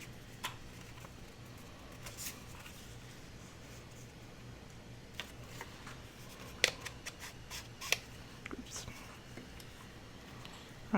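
Scissors snipping a small notch into a paper card made with dyed doilies, a few faint scattered clicks and cuts close by, with soft handling of paper and quiet talk around them.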